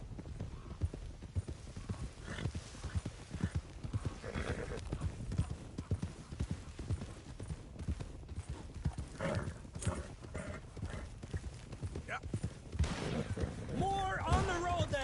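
Horse galloping in the video game Red Dead Redemption 2, a steady, rapid clip-clop of hooves that runs close and continuous throughout, with a brief higher, whinny-like tone near the end.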